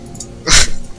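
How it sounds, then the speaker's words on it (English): A single loud, close dog bark cuts in sharply once, followed by a brief fading tail. "I hope you guys can't hear my dog barking."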